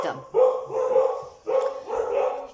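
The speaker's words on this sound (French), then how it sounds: "excusez-moi pour les chiens" Two bursts of barking from dogs indoors, each a rough run of barks lasting about a second, fairly close and loud, with no talking over them.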